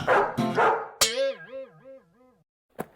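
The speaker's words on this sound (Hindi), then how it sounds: "रमन और बॉस का कुत्ता।" A dog gives a couple of quick barks followed by a long, wavering whine or howl that fades out, with a brief sharp noise near the end.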